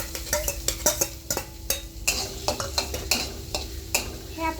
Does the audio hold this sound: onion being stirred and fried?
yes